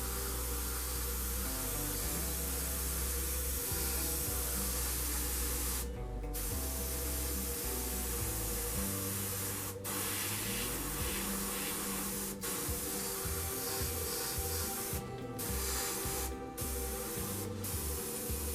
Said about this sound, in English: And gently airbrush some paint.